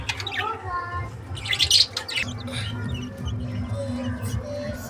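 Caged budgerigars chirp and twitter in quick bursts, with a brighter flurry of chirps near the middle over a low steady background hum.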